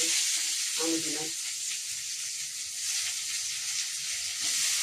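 Onion and eggplant fry in hot oil, a steady bright sizzle and hiss running throughout, with a few faint clinks of utensils underneath.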